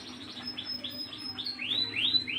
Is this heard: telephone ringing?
no